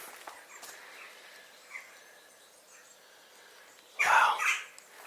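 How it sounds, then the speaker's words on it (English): Faint chirps and distant wild bird calls over quiet ambience in the ruins of Buchanan Castle, Scotland, then one louder, close squawking call near the end. "This is a home for many birds."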